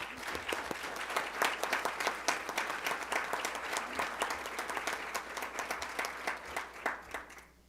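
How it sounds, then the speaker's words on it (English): Applause from the audience at a school district board of education meeting, a dense steady wash of many hands clapping that carries on for several seconds before tapering off near the end. "Let's give them another round of applause."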